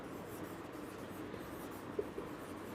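Marker or chalk writing on a board during a maths lesson gives soft scratchy strokes and a couple of faint taps over a low room hum.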